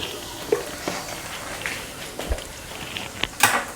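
Spices crackle and sizzle in hot oil as a tempering is added to a pan, with a low steady hiss, brief pops and a sharper burst of spattering near the end.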